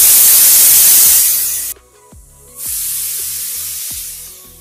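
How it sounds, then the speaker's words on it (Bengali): A pressure cooker of chicken soup on a high gas flame vents steam with a loud, steady hiss that cuts out for about a second, then resumes just as strongly. "এবার একটা ঢাকনা লাগিয়ে 5টা সিটি দিয়ে নেব"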